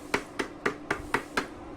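A hand slaps a tightened motorcycle helmet visor six times in a quick, even rhythm, each hit a short, close plastic knock with no talking.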